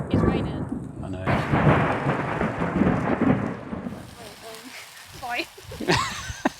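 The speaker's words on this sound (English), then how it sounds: "It's raining." Heavy, steady rain pours down loud and close as a continuous hiss and patter. Voices talk over it toward the end.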